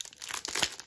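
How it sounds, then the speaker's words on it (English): A trading card pack wrapper from a Walgreens box being torn open, a quick close crinkling rip of foil plastic lasting under a second. "I felt like opening a pack"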